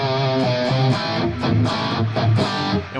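Palm-muted electric guitar played through distortion with a delay effect, giving a run of chunky, clipped notes with bright ringing attacks in a steady rhythm, loud and close with no voice over it.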